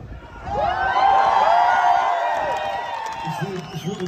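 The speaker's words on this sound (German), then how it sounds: "Ich höre große Zustimmung beim Publikum" A concert crowd at an outdoor live rock show cheers and whoops in approval, a swelling wall of voices and high whistles that peaks midway, then fades as a voice begins speaking.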